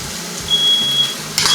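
A smoke alarm in a basement kitchen without ventilation gives thin high-pitched beeps over loud, steady sizzling from beef frying in a pan, with no talking.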